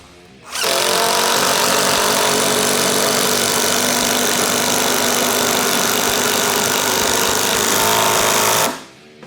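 A DeWALT DCF888 impact driver on speed 2 drives a 4-inch fastener in one loud, continuous, close rattling hammer that runs about eight seconds without a break before cutting off.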